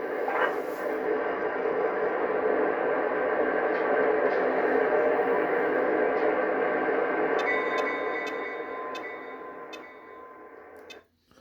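A Lionel Legacy toy diesel locomotive plays its emergency sound effects: a steady, loud electronic engine rumble with tonal ringing. It fades near the end, and thin high beeps tick in over the last few seconds.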